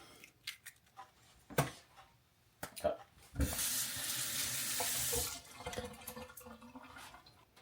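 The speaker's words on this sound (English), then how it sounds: "My hands are freshly washed" Water from a kitchen tap runs steadily for about two seconds while hands are washed at a sink, preceded and followed by scattered clicks and handling sounds close by.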